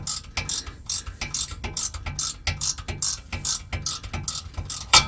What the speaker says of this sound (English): you can see it's pulling the bolt in now